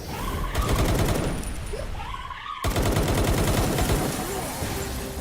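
Rapid sustained gunfire from a gun in the video game Palworld, dense automatic bursts nearly filling the moment with a brief pause midway, loud and close, with voices mixed in.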